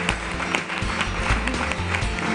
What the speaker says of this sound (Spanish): Así que un aplauso, ¿saben para quién?